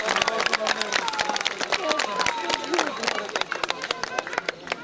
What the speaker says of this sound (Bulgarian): аплодисменти за нашите гости